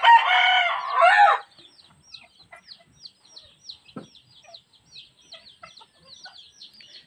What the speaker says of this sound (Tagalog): May tandang.